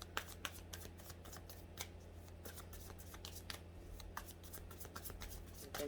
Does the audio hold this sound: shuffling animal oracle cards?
yes